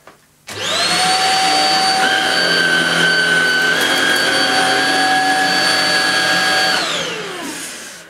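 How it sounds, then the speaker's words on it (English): A Shark Rocket Duo Clean stick vacuum on its high speed setting, cleaning carpet, switches on and runs at a loud, steady high-pitched whine for several seconds, then winds down and cuts off. "Because I'm cleaning carpets, I'm going to use the Shark on its high speed setting."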